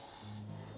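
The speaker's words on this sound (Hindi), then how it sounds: "स्प्रे कर दूंगा" Hairspray from an aerosol can is sprayed onto freshly tong-curled soft waves in one short, close hissing burst that cuts off abruptly, leaving a low background hum.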